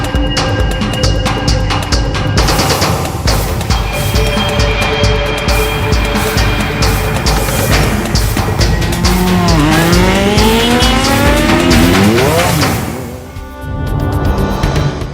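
Loud vehicles fitted with noisy modified silencers roar continuously in heavy traffic, with revving engines and squealing tyres rising and falling, close and harsh.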